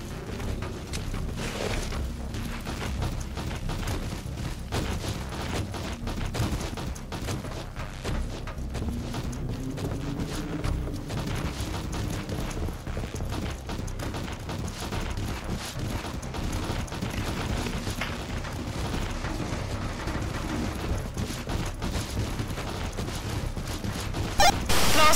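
Continuous video game gunfire from big guns in Killing Floor, a steady busy clatter of shots and mechanical noise lasting the whole stretch at an even, moderately loud level.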